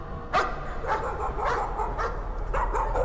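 A dog barks repeatedly in short, close bursts in the psychological horror video game Layers of Fear, the barks sounding over a steady low background hum.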